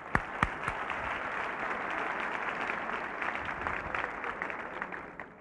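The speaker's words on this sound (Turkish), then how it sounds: "Alkışlarımızla." Steady audience applause at a 1998 Turkish music awards ceremony, a dense wash of clapping with a few sharp claps at the start, fading slightly toward the end.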